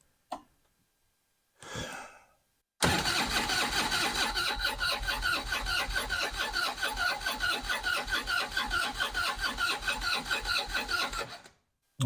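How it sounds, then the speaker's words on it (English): A Harley Evolution big-bore engine cranks over with its plug wires off. After a brief whirring burst, it settles into a steady, rhythmic chugging from the starter that runs for about nine seconds without firing, then stops. "We're going to give it a crank just to let some oil pressure build up and get flowing everywhere"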